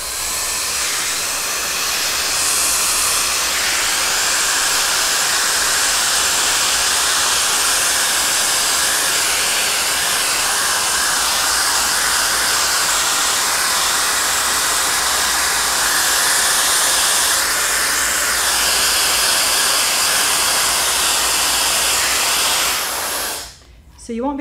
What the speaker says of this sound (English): I'm just drying that product into the hair